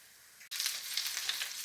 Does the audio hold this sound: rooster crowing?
no